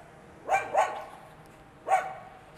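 A dog barks three times at night near a winery in a village: two quick barks, then a pause and a single bark, loud against a low steady background.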